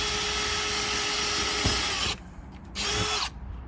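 A power drill whining steadily as it bores a pilot hole into a plastic side gate, then briefly stopping, restarting, and cutting off again near the end.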